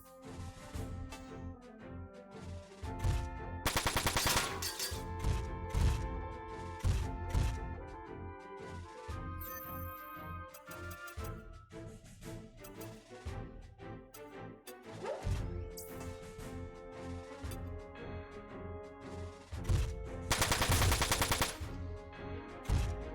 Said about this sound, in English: Rapid fire really only works with machine guns.